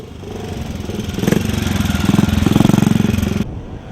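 An ex-Brooklands Norton JAP motorcycle engine thumps loudly and close by with a rapid, even pulsing beat at Brooklands, rising slightly in revs before cutting off abruptly.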